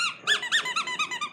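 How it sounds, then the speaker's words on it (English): Squeaky dog toy ball squeezed repeatedly, giving a quick run of about eight sharp, high squeaks in a steady rhythm, close and clear with no talk. "If I get the squeaky ball, the magic squeaky ball, maybe I can bring back the life of the party."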